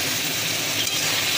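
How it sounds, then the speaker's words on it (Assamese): Goat meat frying in a covered pan with a splash of warm water, a steady bright sizzle and hiss held evenly throughout, close and continuous with no voices. "মাংসৰ কালাৰটো চেঞ্জ হৈ যোৱালৈ মই পুৰা ভাজি থাকিম।"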